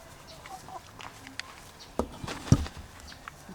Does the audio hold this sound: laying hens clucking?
yes